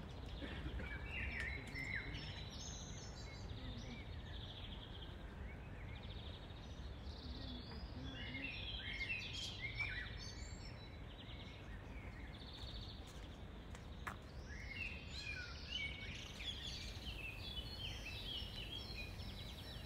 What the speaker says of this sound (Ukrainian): Пташки просто заливаються.